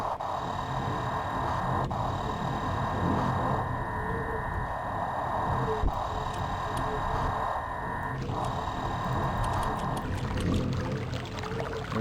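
Continuous pouring, rushing water fills the space in the 2021 Myst game's Selenitic Age, a steady loud wash near the lava area that carries on throughout with no talking.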